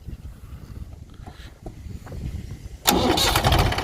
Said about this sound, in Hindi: छुट्टे ही ट्रैक्टर स्टार्ट है